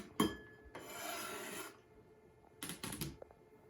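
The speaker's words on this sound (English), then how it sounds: "When you're wiping off your knife, be careful of your blade." A kitchen knife blade being wiped clean with a cloth: two short rubbing swipes near the start and another pair toward the end, quiet and close, with no talking.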